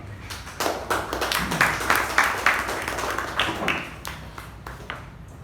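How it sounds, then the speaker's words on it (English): Applause from a Toastmasters meeting audience, a crowd of hands clapping fairly close and steady, swelling and thinning over several seconds with scattered sharper claps and no talking. "Please keep the applause going for these brave Toastmasters"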